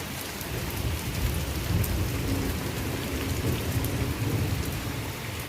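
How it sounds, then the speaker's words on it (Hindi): Heavy rain pours outside in a village, a dense, steady hiss with a low rumble underneath, heard alone without voices. "देखो, बाहर बहुत बारिश लगी हुई है"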